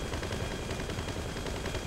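A vehicle-mounted turret fires in Criminal Mastermind 3, a continuous loud rapid stream of gunshots with an even, rattling rhythm throughout.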